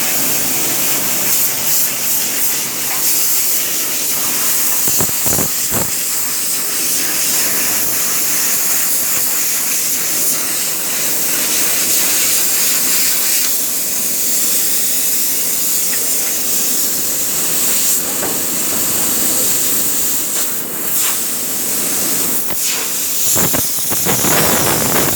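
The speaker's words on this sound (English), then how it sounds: "get compressed air." Compressed air blasts steadily through a chiller condenser, a loud, continuous broadband hiss lasting throughout with a few brief sharper bursts and clicks, no speech.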